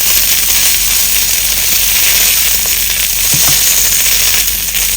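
Cumin seeds and peanuts roast in a hot pan with a constant, loud dry sizzle and crackle, broken by a few light taps and stirs, with no voices.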